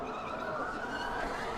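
Race car skidding with all four brakes locked in the BeamNG driving game during a recreated F1 2023 crash, a continuous loud tire scrub and engine roar filling the whole moment without pause.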